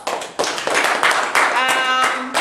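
A short round of applause from a youth group gathering, brisk clapping mixed with voices and a whoop, lasting only a couple of seconds.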